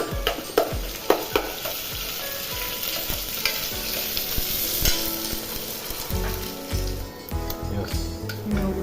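Onions fry in a pan under regular stirring, a loud close sizzle broken by sharp spoon knocks and scrapes against the metal, with no voice.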